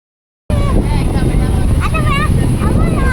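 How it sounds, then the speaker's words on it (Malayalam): A speed boat runs along the Alappuzha backwater, its engine a loud, steady broadband roar close by, with wind buffeting and tonal whines rising and falling over it. "സ്പീഡ് ബോട്ട് പോകുന്നുണ്ട്."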